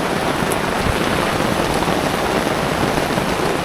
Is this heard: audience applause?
no